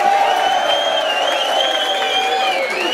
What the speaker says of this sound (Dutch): Nog een groot applaus.